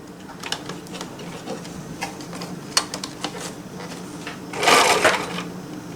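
A Husqvarna Viking 980 sewing machine runs a zigzag stitch, giving a steady mechanical ticking and whirring with small clicks, alone at close range and growing louder for a moment near the end.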